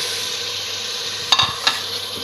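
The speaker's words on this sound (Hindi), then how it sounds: "इस स्टेज पे मैं गोश्त डाल दूँगी" Mutton goes into a pan of frying masala, giving an even low sizzle broken by a couple of brief clattering thumps as the meat drops in.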